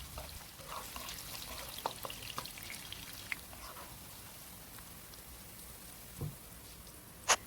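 Half a cup of onions fry in hot oil for a biryani, giving a steady, faint crackling sizzle like light rain, with a few soft stirring clicks.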